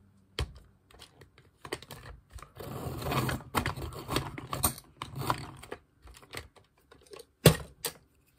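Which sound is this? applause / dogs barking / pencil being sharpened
pencil being sharpened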